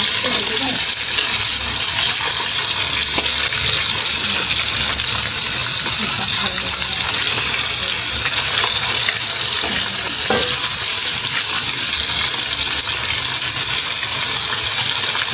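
Hilsa fish fries in oil on an electric stove, making a loud, continuous hissing sizzle with occasional faint clinks, close up and without talk.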